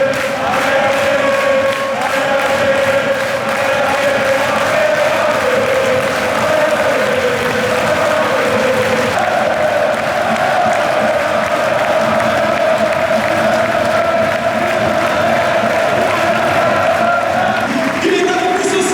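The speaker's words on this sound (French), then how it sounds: "un tonnerre d'applaudissements pour l'enfant du Racing originaire" A football crowd at the Bollaert-Delelis stadium of RC Lens keeps up a loud, continuous roar of cheering, applause and chanting voices that stays steady from start to finish.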